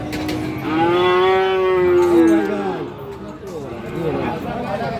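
A cow at a cattle market in Aftabganj, where Friesian and crossbred bull calves are sold, lets out one long, loud, close moo. Murmuring voices and market chatter follow it.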